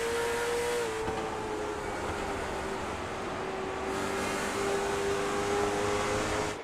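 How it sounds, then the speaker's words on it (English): Race cars circle Five Flags Speedway during an evening championship race, a steady loud engine drone that holds for the whole stretch, with a high revving whine rising and falling as cars pass, and no talk over it. "Fastest car right now on the racetrack is Dustin Hardy."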